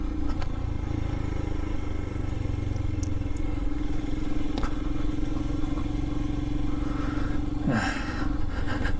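A Royal Enfield Himalayan motorcycle engine drones steadily while riding on an open road, with a constant hum, light clatter and wind, and a brief whoosh near the end.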